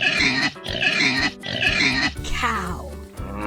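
A pig grunts and oinks in three loud, dense bursts, then a trailing squeal fades out; close and unaccompanied by talk.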